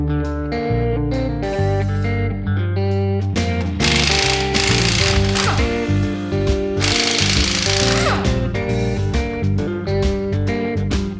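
Pneumatic power tools tear down a Buick Nailhead block and heads, with loud, sustained rattling bursts over a steady tonal, music-like background.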